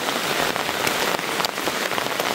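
Heavy rain pouring onto surfaces in a rural forest setting, a dense, loud, continuous roar of drops with no voices.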